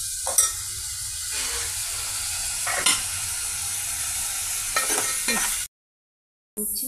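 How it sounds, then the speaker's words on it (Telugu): Onion, green chili, tomato and ginger-garlic paste sizzle in oil, a steady close hiss broken by several spatula scrapes and stirs, then a brief silent gap before the frying resumes. "పెద్దల్లిపాయ పీసెస్, పచ్చిమిర్చి, టమాటా పీసెస్, అల్లం చిన్నులపాయల పేస్ట్ అన్నీ ఆయిల్తో ఈ విధంగా ఫ్రై అవుతున్నాయండి"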